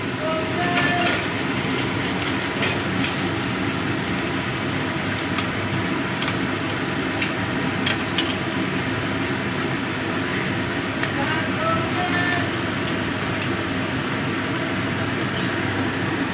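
Prawn head paste frying in a pan, with a dense, steady sizzle and crackle that runs loud and unbroken, plus occasional sharp spatters.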